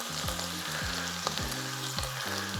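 Beef sizzles loudly in a hot, smoky frying pan with a steady crackling hiss, while repeated scraping strokes push the meat around in an even rhythm.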